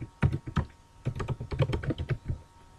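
Rapid clicking keystrokes on a computer keyboard, close and clear, in uneven bursts with short pauses, no talking over it.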